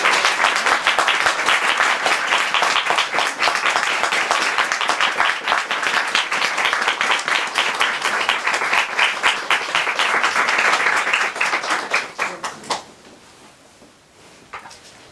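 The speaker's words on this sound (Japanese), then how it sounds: "皆様大きな拍手をお送りください。" Audience applauding at the close of a waka poetry contest, a dense, sustained clapping from many hands that holds steady for about twelve seconds and then thins out to a few scattered claps and quiet.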